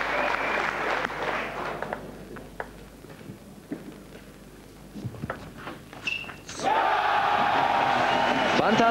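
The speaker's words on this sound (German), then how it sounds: "zum Jubel der Zuschauer in der Sporthalle von Kalmar erarbeitet sich Magnus Wahlgren 3 Matchbälle" Spectators cheer and applaud in Kalmar's sports hall as a table tennis match reaches match point; the crowd noise swells, dips under scattered claps and shouts, then rises to a loud sustained roar.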